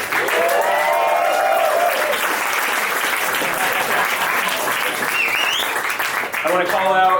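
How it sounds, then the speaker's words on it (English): A comedy show crowd applauds loudly and continuously, dense clapping with cheers and whoops rising over it and voices calling out near the end. "One more round of applause for Jack."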